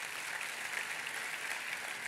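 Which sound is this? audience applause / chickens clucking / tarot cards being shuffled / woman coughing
audience applause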